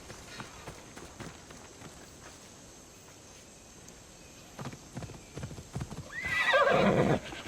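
A horse in the video game Assassin's Creed Odyssey clip-clops along at a steady gait, then gives a loud, close neigh near the end, with faint game ambience underneath.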